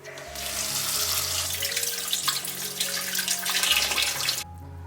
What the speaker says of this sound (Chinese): 我们用清水洗一下，洗去盐分